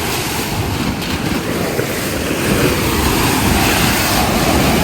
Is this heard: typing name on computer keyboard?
no